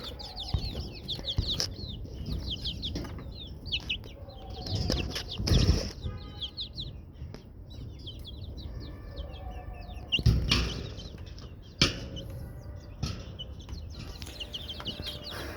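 Desi village chickens cluck and squabble inside a cage, with bursts of wing flapping and scuffling. Sharp calls repeat irregularly over a close, continuous background of fowl noise.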